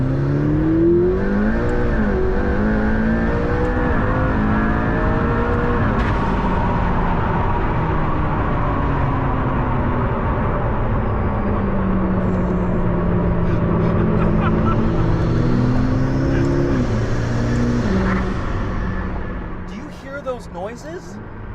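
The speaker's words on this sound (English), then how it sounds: "I'm in the P1 and I want to experience the full 903 horsepower, so let's turn the engine back on." McLaren P1 hypercar with 903 horsepower, driven in manual mode through downshifts: a loud, continuous engine roar with rising and falling revs that climbs repeatedly, close and sustained throughout, easing off near the end.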